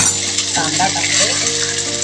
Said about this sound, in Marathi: कांदा टाकते